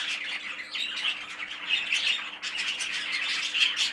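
Young cock bird squawking, a close, steady run of harsh repeated squawks and chirps with a faint background hum, no talking.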